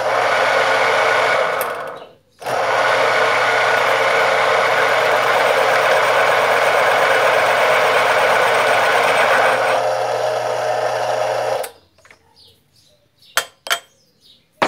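A homemade metal lathe runs with a slipping drive belt, giving a loud, steady motor drone and whir that cuts out briefly, resumes, then stops abruptly, followed by a few sharp metallic clicks and knocks.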